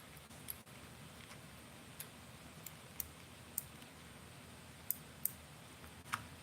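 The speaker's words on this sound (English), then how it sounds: "You should be able to hear those drag clicks" Drag clicker on a BFS bass fishing reel, sounding faint, sparse ticks scattered irregularly across a quiet background, a handful of sharp isolated clicks with no talking.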